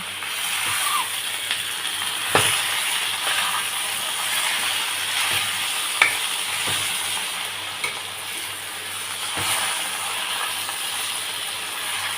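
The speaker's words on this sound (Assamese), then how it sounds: "এতিয়া আমি তাত দিছো মাছৰ মাথাখিনি গোটেইখিনি ভালদৰে মিহলি কৰি লৈছো" Fish head and fried rice are stirred together in a pan, a continuous sizzle with occasional scraping clinks of the spatula, close and moderately loud.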